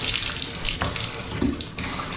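Water runs steadily from a bathroom faucet into the sink, a constant close splashing rush with small clunks as the tap is handled.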